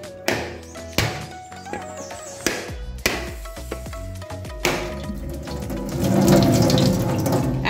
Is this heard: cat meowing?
no